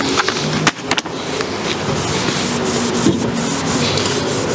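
Steady rubbing and scrubbing on the bonnet of a Land Rover Defender 110, cleaning off years of road grime, oil and grease, with a continuous abrasive swish close to the listener and a few brief knocks near the start.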